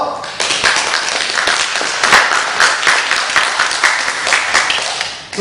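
A lecture audience claps in a lively, fairly loud round that holds steady before trailing off at the end, with a few voices mixed in.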